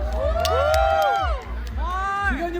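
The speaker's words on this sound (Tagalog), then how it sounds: "Sigaw nyo pa, lakasan nyo pa!" A crowd at a raffle event cheers and shouts loudly and close by, with rising and falling whoops and yells in two big bursts over a dense, roaring babble.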